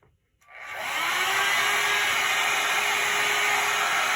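A quiet hair dryer on its high setting switches on, spinning up within a second into a steady, even airy whoosh with a faint motor whine, running alone with no talking.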